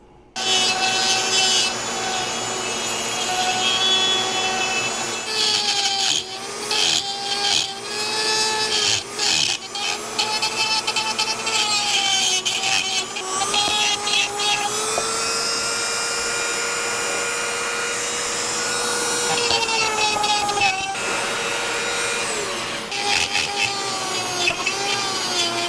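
A Dremel rotary tool grinds into the wooden body of a Fender Telecaster, a loud continuous rasping whine that dips and catches repeatedly as the bit bites, with several short stutters and pitch shifts throughout.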